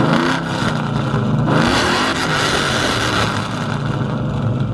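A Ford Mustang V8 engine revs loudly and steadily up close, a deep throaty roar with a shifting pitch, no voices.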